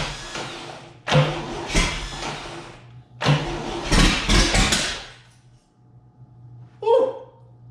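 Starter cranking an abandoned 1962 GMC farm truck's 305 V6 engine with a weak starter, two loud grinding bursts of about two seconds each with a short gap between them, and a brief quieter sound near the end.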